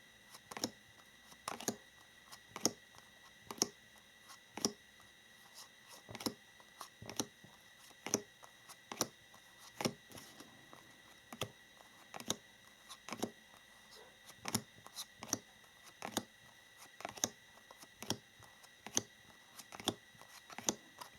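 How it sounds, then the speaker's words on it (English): A 78-card tarot deck is flipped through quickly, one card after another, making soft, regular snapping flicks at close range in an otherwise quiet room. "it's a lot of cards here, and so I'm just flipping through a little bit quickly here"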